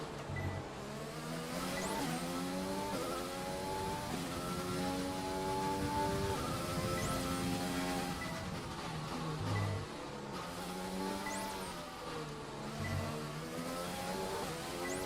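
Formula 1 engines in the F1 2020 game race around Monaco, their high revving whine rising and falling through gear changes across the whole stretch, loud and continuous with no talk.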